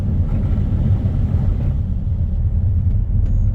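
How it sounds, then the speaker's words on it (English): Heavy rain lashing down with gale-force wind at night on a conger fishing session, a loud continuous low roar and buffeting across the whole stretch with no pauses. "The rain is absolutely smashing it down. The wind is blowing a gale."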